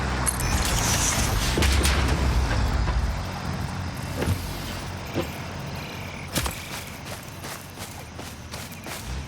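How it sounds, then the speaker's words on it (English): A truck in the factory-building game Satisfactory drives close by with a loud, steady rumbling engine that eases slightly toward the end, with a few thumps and clanks along the way. "that truck was about to ram into me"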